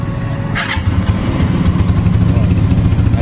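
A Rusi or Honda TMX motorcycle engine runs loud and close, with a steady throbbing idle that swells as it revs, and a brief sharper burst near the start.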